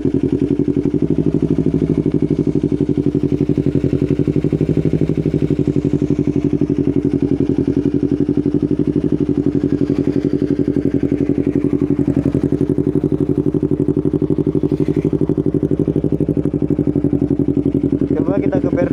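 A Yamaha R25 motorcycle fitted with a DSM Racing exhaust idles steadily at close range, a continuous low, even engine rumble with no revving.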